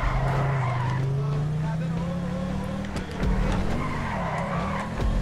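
A car drifts in GTA Online: an engine drone slowly climbs in pitch under a long tire skid and squeal, steady and fairly loud, while voices talk faintly in the background.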